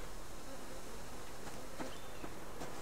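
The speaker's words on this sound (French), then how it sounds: "On entend encore des abeilles." Bees drone in a continuous faint hum in the survival game Subsistence, a few brief louder buzzing passes rising near the end as insects move close by.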